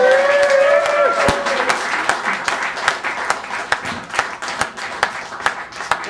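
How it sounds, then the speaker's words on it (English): A comedy club audience at a Bongo Java set applauds a comedian, dense clapping and a few cheers that start strong and thin gradually into scattered claps. "give it a big round of applause for Terry Chicken Man Wilcox"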